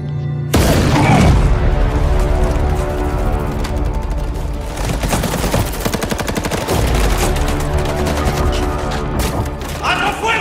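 Gunfire from a film shootout inside a house: rapid, loud bursts of shots, some like machine-gun fire, running almost without a break, near and harsh, with faint voices underneath.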